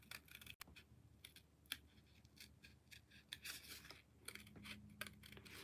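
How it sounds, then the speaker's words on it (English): Small scissors snip and crunch through orange paper while a pumpkin piece is trimmed, giving a quiet, close, irregular run of cuts and scratchy rustles with no voices. "I'm angling my scissors to try to get underneath the cut file and just cutting the orange part"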